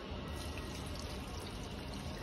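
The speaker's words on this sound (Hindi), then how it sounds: "इसमें पानी डालते हैं" Steady, continuous stream of water poured onto dried-out plants in hot weather, close and fairly loud with a constant splashing rush and no breaks.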